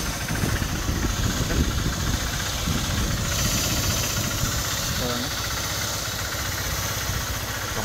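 A Honda Shine motorcycle engine with a head, rocker and timing problem idles close by with a continuous low rumble and faint hiss, while a person talks over it.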